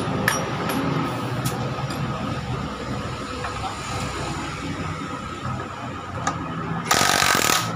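An impact wrench rattles in short bursts while working on a Honda PCX 160 scooter during a throttle body install. It is loud and close over workshop noise, and a final harsh burst comes near the end.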